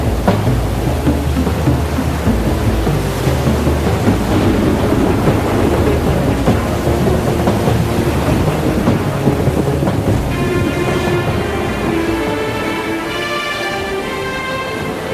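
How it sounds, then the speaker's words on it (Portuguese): A heavy thunderstorm at sea, where the storm nearly sinks a boat. Loud, steady rain roars continuously with low rumbling thunder underneath, and no voices are heard. "No meio do mar, surgiu uma grande tempestade que quase afundou o barco."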